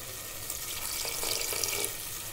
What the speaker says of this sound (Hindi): थोड़ा सा पानी डालेंगे, ज़्यादा नहीं, थोड़ा सा पानी पड़ेगा इसमें